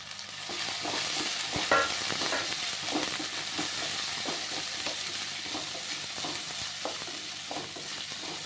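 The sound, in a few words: curry leaves and chilies frying in a pan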